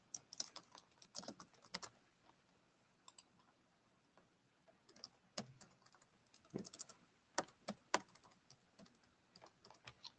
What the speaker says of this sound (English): I'll just type mine in here.